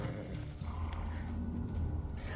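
Horse hooves clip-clopping during a ride in the video game Assassin's Creed Odyssey, a steady close gallop-like beat with low rumbling ambience throughout.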